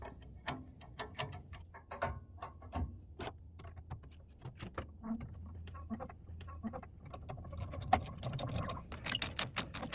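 A wrench works the two nuts off a U-bolt that holds an old steam locomotive's throttle body to the dry pipe. It makes an irregular series of metallic clicks and ratcheting taps that grow busier toward the end.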